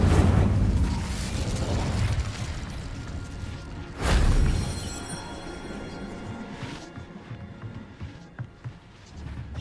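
Incendio fire spell cast in Hogwarts Legacy, a booming fiery burst that fades, followed by a second louder whooshing blast and then scattered crackling pops and mechanical clatter as it dies down.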